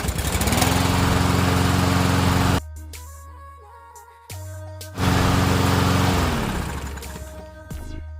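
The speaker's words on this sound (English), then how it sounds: "So you're going to want to let the mower run for about 3 to 5 minutes." A gas lawn mower engine runs loud and steady close by, drops to a low idle for a couple of seconds, then revs back up to full roar and settles again.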